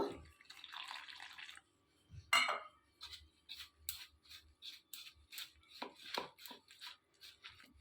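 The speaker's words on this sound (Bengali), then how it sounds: "দিয়ে অল্প অল্প করে আমি জল দেব" Water trickles in a brief pour into cauliflower pakora batter, followed by quiet, wet squelching and slapping as the batter is mixed by hand in short bursts, close and soft.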